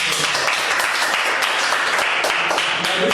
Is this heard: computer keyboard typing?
no